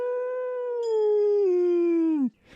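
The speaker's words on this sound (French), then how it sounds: "Elle se ravisa et se mit à hurler." A single wolf howls close by, one long, loud, smooth note that slowly falls in pitch and drops away at the end, alone with no other sound.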